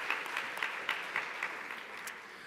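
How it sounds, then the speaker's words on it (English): Audience applause at a college campus closing plenary, a moderate spread of clapping heard from within the room that fades gradually over a couple of seconds. "can we give ourselves a round of applause for being here"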